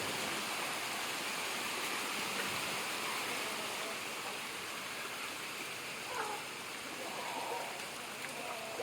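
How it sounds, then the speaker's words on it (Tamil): Rain falling outdoors on a rural morning with free-range country chickens, a steady dense hiss of drops that continues throughout at moderate level, with no one speaking. "மழை பெய்ய ஆரம்பிச்சிட்டு ப்ரோ"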